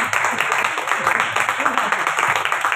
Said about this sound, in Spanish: Pido un fuerte aplauso a nuestra madrina